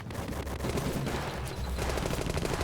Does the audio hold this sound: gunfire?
yes